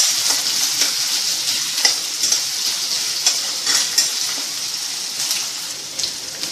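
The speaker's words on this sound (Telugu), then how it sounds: "దీన్ని కొద్దిసేపు 1-2 నిమిషాల పాటు ఫ్రై చేసుకోండి." Diced potatoes with onion and green chilli fry in a pan, giving a loud, steady hiss of sizzling oil with regular stirring scrapes close by.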